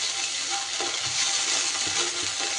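Ginger-garlic paste hits fried onions, garlic and tomatoes in a hot pan, producing a close, steady hiss of sizzling with soft stirring scrapes of a spoon.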